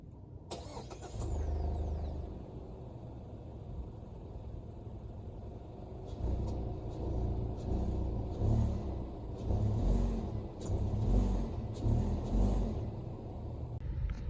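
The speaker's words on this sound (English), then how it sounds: "I'm gonna do an exhaust clip" A 2020 Mazda CX-5 Touring starts, and its exhaust settles into a steady idle. It is then revved several times in rising, throaty bursts, heard alone from close by with no talking.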